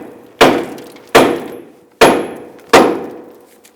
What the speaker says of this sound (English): We're going to use a hammer to strike the upper control arm here.